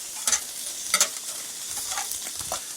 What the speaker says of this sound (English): To sear the burgers, this is a grill grate flipped upside down.